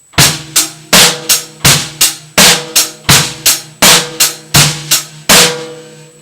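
A simple, steady drum beat with regular kick and snare hits and cymbal wash, played alone at a moderate tempo.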